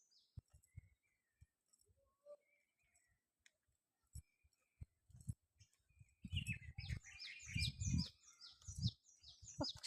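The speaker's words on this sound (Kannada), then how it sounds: "ಪಕ್ಷಿಗಳ ಕಲರವ ಜೊತೆ ನೀರು, ಗಿಡ, ಮರಗಳು ತುಂಬ ಸೂಪರ್ ಆಗಿದೆ ಅಲ್ವಾ?" Birds chirp around the Tungabhadra dam, with sparse, faint calls at first. A busier burst of tweeting follows, mixed with low thumps and rustling nearby.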